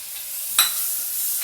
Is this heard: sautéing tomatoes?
yes